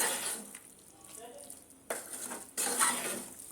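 Thinly cut potatoes cooking in a pan over a high gas flame are stirred with a utensil, giving soft scraping and a light sizzle that swells into two louder scraping bursts near the end.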